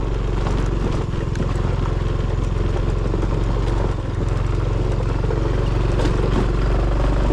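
A motorcycle engine runs loudly and steadily nearby while riding downhill on a mountain road in Montalban, Rizal, its rumble continuous throughout with no talking.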